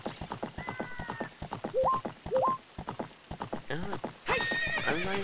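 Horse hooves clip-clopping at a gallop in the Ocarina of Time video game, a steady near rhythm broken by whinnies and bright game chimes, with a louder burst of neighing and effects near the end.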